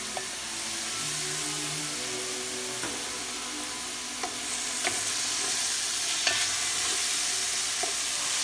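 Beef tendons frying in a pot, a steady hiss of sizzling oil with a few sharp clanks of a utensil against the metal, no voices.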